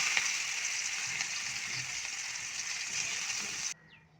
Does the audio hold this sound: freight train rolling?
no